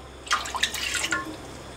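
Water poured from a cup into a pan to start a sugar syrup for gulab jamun, a brief splashing pour that trails off into light drips.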